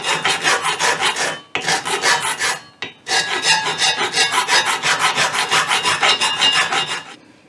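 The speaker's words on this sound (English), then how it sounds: "I'll just do this bit here, and all I've got is a bit of wood behind there to hold it, and I'll just file this flat" A hand file strokes metal flat in a vise, the workpiece backed by a bit of wood and the vise jaws used as a guide, giving loud, rhythmic rasping strokes in steady succession with two short pauses, close and alone.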